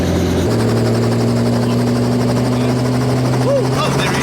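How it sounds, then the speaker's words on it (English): A helicopter's rotor and engine drone loud and steady from inside the cabin during a flight at a Top End safari camp, while people talk and cheer over it. "We're in the chopper"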